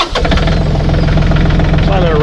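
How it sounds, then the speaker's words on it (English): A tractor engine turns over and settles into a steady, loud, low running rumble, out in the open beneath shade trees on a hot day, with a voice talking over it. "let me get this tractor and really smooth her down"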